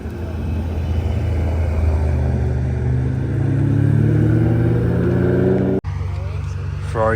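A Ferrari 550 drives past at the Pebble Beach Concours, its engine a loud, close rumble that rises in pitch as it accelerates, then cuts off sharply, with voices following briefly.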